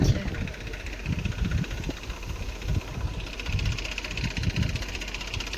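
A tractor engine runs with a low, continuous rumble, muffled by wind buffeting, while a person talks nearby.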